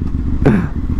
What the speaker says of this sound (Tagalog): iba yung makaramdam na ito na sports bike at saka yung tunog